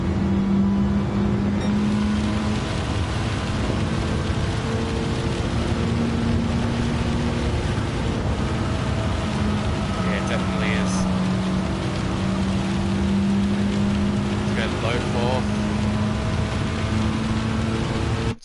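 A Gr.4 Mitsubishi race car in Gran Turismo 7 drones steadily around the High Speed Ring in the rain. Its engine hum holds under a constant wash of rainfall, loud and unbroken throughout.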